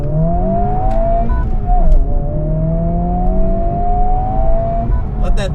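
A Honda Civic Type R engine revs hard with VTEC engaging, a loud, close, sustained rising whine that climbs steadily in pitch, eases briefly, then climbs again over a steady mechanical drone.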